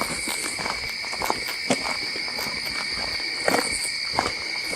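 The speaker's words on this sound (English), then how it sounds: "what I'm hearing is crickets and, we have crickets and frogs mostly." Steady, high-pitched chirring of crickets and frogs fills the night air, with scattered faint clicks and rustles layered over the continuous drone.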